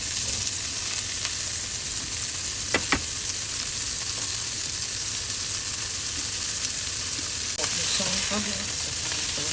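Burger patties sear in a frying pan, a steady close sizzle running throughout with a few sharp clicks of utensils and brief faint background voices near the end.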